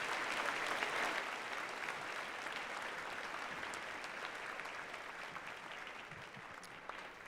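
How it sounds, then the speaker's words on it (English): An audience at a Veterans Day ceremony applauds the choir, band and orchestra with steady, moderately distant clapping that holds evenly and fades slightly toward the end. "Please give another round of applause to the RB Choir Band and Orchestra."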